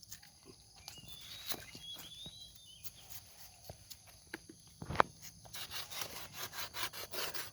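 A grafted plant stem, a potted ABIU scion grafted a month and a half earlier, being scraped with a blade to cut its sap channel: close, dry, repeated scraping and rasping strokes in an irregular rhythm, growing busier toward the end.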